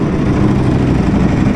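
A Ducati Panigale V4R motorcycle fitted with an Akrapovic exhaust runs close by, its engine a loud, steady, rough roar with no pauses.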